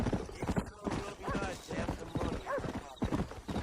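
Horses on a ranch in the video game Red Dead Redemption, hooves clip-clopping in an irregular rhythm with occasional snorts and neighs, fairly close, under talk.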